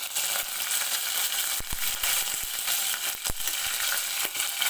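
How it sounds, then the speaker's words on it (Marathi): Spices, bay leaf, cinnamon, curry leaves and green chillies sizzle steadily in hot oil for a potato bhaji, a continuous close frying hiss broken by a few sharp crackles and pops. "हलकासा गोल्डन होईपर्यंत तेलामध्ये आपल्याला भाजून घ्यायचं आहे"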